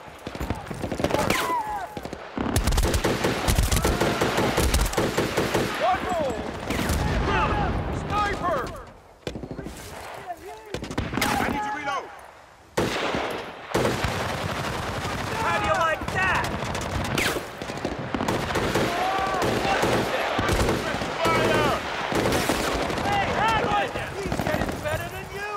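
Sustained machine gun fire and gunshots in the video game Battlefield Bad Company, loud and dense bursts nearly throughout with brief lulls, mixed with shouting and other battle noise.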